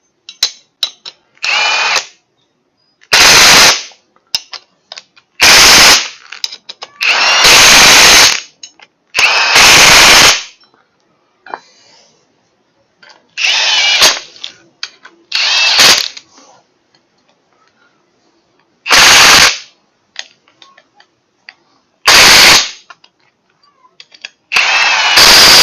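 A power tool with a socket fitted drives 10.9-grade metric screws tight on a TaoTao ATV, in loud repeated bursts of whirring and ratcheting separated by short pauses and quieter clicks.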